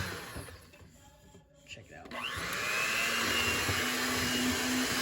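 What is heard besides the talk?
blender running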